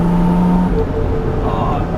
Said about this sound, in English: it's good to hear all the pops and crackles